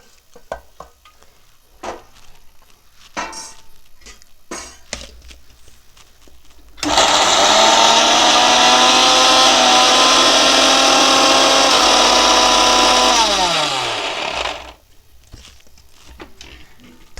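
A kitchen grinder whirs loudly for about seven seconds, crushing fried dough for churma ladoo with a steady motor hum whose pitch drops as it stops, after quiet handling clatter.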